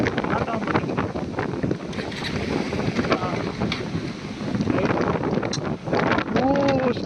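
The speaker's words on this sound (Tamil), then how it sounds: "தரங்களா காற்று அதிகமாக அடிக்குது" Strong wind roars continuously and buffets the microphone around a motorbike rider on a ride home, loud and unbroken throughout, with a muffled voice partly buried under it.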